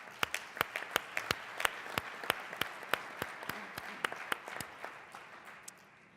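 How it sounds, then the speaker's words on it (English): Applause from a conference audience at a Baltimore event, heard as a steady run of sharp, separate claps, some loud and close, spread across the whole stretch with no talking. "Let's give them all a round of applause."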